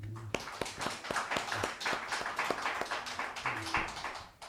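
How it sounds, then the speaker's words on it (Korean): Church congregation clapping during a Sunday worship service, a brisk run of sharp, fairly regular claps, moderately faint, with a few tonal hums underneath. "하나님께 영광의 박수를"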